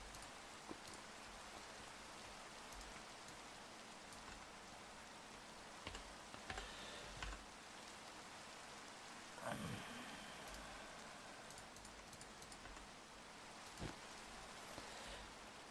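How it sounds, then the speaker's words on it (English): Steady rain falls throughout a Minecraft modded world, a constant broadband hiss with scattered droplet ticks and a few brief louder bumps, no talking. "Got rid of the rain."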